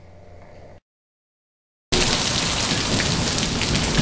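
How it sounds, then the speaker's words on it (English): Steady heavy rain pours down loudly and close, a dense hiss of drops with low rumbling thunder underneath, after a brief quieter moment and a gap of silence. "the rain is coming down. It is lightning. It is thundering"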